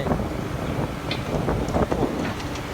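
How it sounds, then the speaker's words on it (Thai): Strong wind gusts through trees outdoors, a continuous rough rushing and buffeting roar with slight surges, no voices present. "ลมก็แรงจัดครับตอนนี้ ดูครับต้นไม้"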